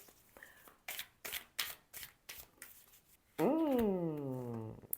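A tarot card deck handled and shuffled, with a quick run of crisp card snaps and riffles, close and fairly quiet, before a voice speaks at the end.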